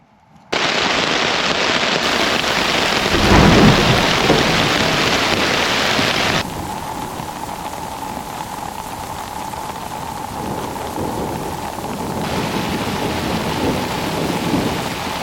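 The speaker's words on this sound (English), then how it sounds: "It's impossible to sleep. Between the thunder and the lightning." A thunderstorm rolls over a hammock camp in the Catskills, with a loud crack and rumble of thunder above heavy rain hammering close by, then steadier rainfall that continues.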